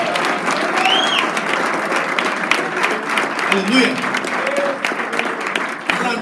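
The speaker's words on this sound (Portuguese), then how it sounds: "Vamos aplaudir e glorificar o Senhor disso." Church congregation applauding to glorify the Lord during a conference worship session, continuous clapping with shouts and voices mixed in throughout.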